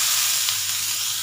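A steady, loud sizzle of finely chopped onions frying in hot oil with fennel seeds, continuous hissing with no talking.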